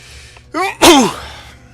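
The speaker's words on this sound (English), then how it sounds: "Sorry, I had to sneeze." A single sharp sneeze rings out up close, preceded by a quick inhaled gasp, then a brief trailing breath in an otherwise quiet room.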